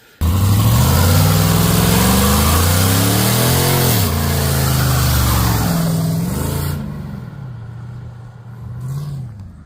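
A loud 1979 Chevrolet Caprice Classic Landau engine revs hard and rises in pitch, roaring for several seconds before easing off to a lower rumble, with no talking.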